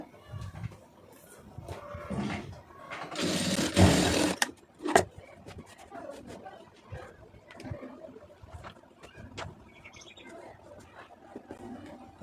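A sewing machine stitches a lining strip onto a blouse in a tailoring class, a dense whirring burst of rapid stitching for about a second, then softer handling noises and faint chirping in the background.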